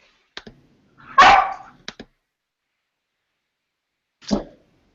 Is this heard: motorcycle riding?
no